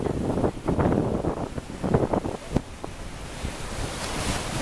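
Surf breaks and washes up on the sandy shore at Playa de Tuxpan, Veracruz, a broad roaring hiss with a few nearer splashes, buffeted by strong wind noise on the microphone.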